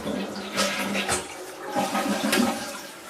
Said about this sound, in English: press the button and the toilet flushes